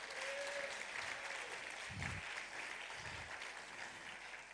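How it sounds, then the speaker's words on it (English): An audience at a formal event gives a round of applause, a steady wash of clapping heard from a distance with a couple of low thumps partway through, fairly faint overall. "Please give Lola Shane a round of applause."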